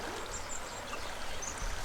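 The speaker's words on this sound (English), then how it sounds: "Then it flows down here and joins the Midford Brook, and then they both become the one stream" Small brook running high as it flows toward its joining with Midford Brook, a steady close rush of water with faint bird chirps above it.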